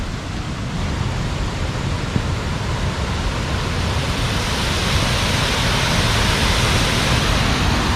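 Rushing water at Jägala Waterfall in Lahemaa National Park, Estonia, as a loud, steady broadband roar that fills the whole stretch without pause and with no voices.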